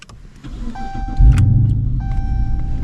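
A 2014 Dodge Charger R/T being started again: a rising electrical whine and chime tones, then the engine catches with a deep close rumble that settles into a steady idle, with no talking.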